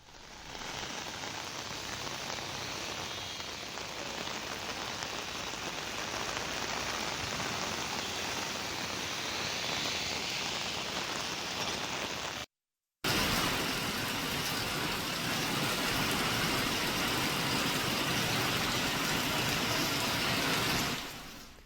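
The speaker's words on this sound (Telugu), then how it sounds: "తదితర ప్రాంతాల్లో వర్షం కురుస్తోంది" Heavy rain pours over Telangana with traffic nearby, a dense, unbroken hiss of rainfall that holds steady for about twenty seconds, broken only by a brief silent gap partway through.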